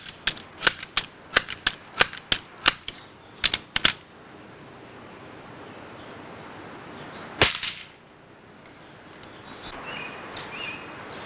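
A pump-style air pistol worked with a quick series of sharp clicking strokes, then a single crisp shot later on, close and loud against a quiet background.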